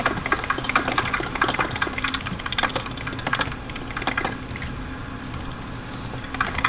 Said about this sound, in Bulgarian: Ако чувате един такъв звук, сори, но това ми е мишката на лаптопа